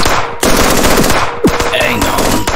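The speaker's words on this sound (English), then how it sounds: "We'll provide suppressing fire." Loud bursts of automatic machine gun fire in a multiplayer video game firefight, rapid rattling volleys with a short break and brief overlapping game sounds, close and dominant.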